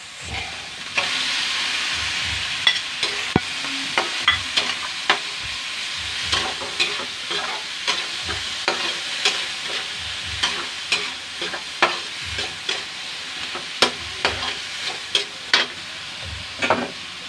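Ground meat sautéing in a pan for an eggplant dish, a steady close sizzle broken by repeated scraping and clacking stirs, with no voices.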